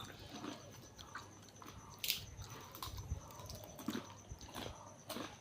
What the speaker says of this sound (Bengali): ফুল বিস্কুট দিয়ে চা খাচ্ছি